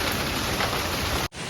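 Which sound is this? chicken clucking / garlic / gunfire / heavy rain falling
heavy rain falling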